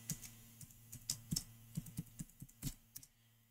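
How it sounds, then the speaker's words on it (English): Someone types a username and password on a computer keyboard, a quick irregular run of close, crisp key clicks that stops abruptly after about three seconds. "type username admin and password, the new one."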